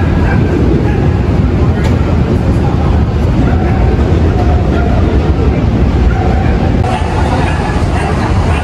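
Pomeranians yip and bark at a Pomeranian club dog show in a tent at the Manila Hotel, mixed into a loud, dense crowd din with people talking throughout.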